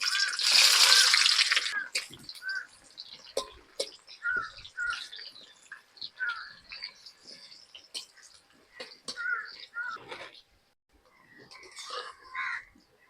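Chopped onions dropped into hot oil for a chicken biryani, bursting into a loud hiss and sizzle at first, then settling into scattered pops and crackles while someone talks quietly.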